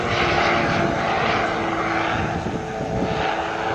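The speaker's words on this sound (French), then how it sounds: "il redescend en virage à droite vers le sol" A propeller aerobatic airplane at an air show in Monceaux, 2003, descends in a right turn with throttle cut, its engine a steady, fairly loud drone with wind rush that holds throughout without breaks.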